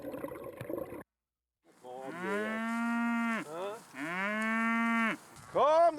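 Cattle on an open pasture in the Rhön give several long, loud, drawn-out moos in close succession, each a deep sustained bellow separated by short pauses.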